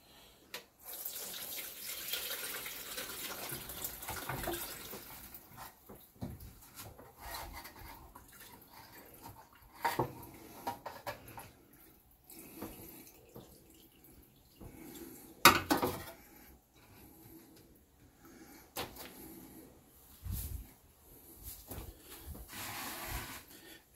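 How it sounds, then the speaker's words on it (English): Cooked-down venison au jus being strained to remove chunky bits, with faint liquid pouring and trickling, occasional clinks of utensils and cookware, quiet and intermittent, with no talking. "The au jus is cooked down, so I'm going to strain out the chunky bits."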